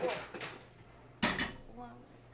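Metal bread pans preheated to 450 degrees clank and scrape as they are drawn from an oven with oven mitts, with a sharp clatter midway and faint voice-like sound around it.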